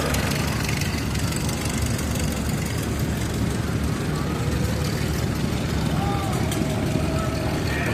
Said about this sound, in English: This is an 1849 Farmall, Model H.